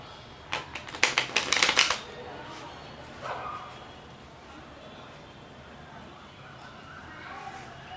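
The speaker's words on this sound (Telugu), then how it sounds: "ఇప్పుడు ఫైనల్గా ఈ సెట్ని మళ్ళీ షఫుల్ చేస్తాను ఇలా." A deck of playing cards is riffle-shuffled up close during a card trick demonstration, giving a quick burst of fluttering clicks followed by a softer second riffle over faint room noise.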